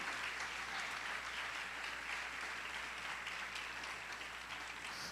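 A church congregation applauds together in a large worship hall, a dense and steady wash of clapping that holds at the same level for several seconds with no voice over it.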